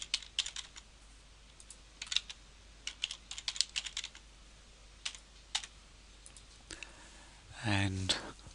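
Password being typed on a computer keyboard during a first-time software installation: scattered bursts of key clicks in quick irregular runs, close and fairly quiet, ending with a louder rustle.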